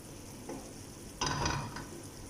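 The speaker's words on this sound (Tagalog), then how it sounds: "And then keep on mixing" Butter chicken with ginger paste being stirred in a pan, a soft continuous sizzle with a couple of scraping spoon strokes, one louder swirl midway, fairly quiet and close with no talking.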